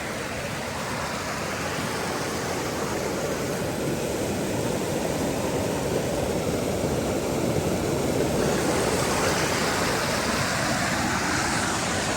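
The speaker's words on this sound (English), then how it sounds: "The river is raging behind me. It is loud." Loud raging river pouring past as a constant, dense roar of rushing water, close and unbroken throughout with no voices.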